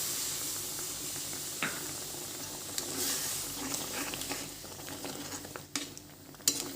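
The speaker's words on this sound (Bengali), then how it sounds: "এর মধ্যে এখন জল দিয়ে দিচ্ছি" Water poured into a pan of raw mango chutney sets off a soft, steady hiss and steam, with a few sharp clicks and scrapes of stirring scattered throughout; no voices.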